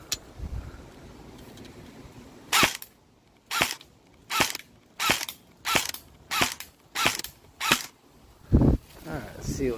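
Airsoft gun shots strike a new airsoft mask from about ten feet away, a string of about nine sharp cracks spaced roughly half a second to a second apart, outdoors and fairly close.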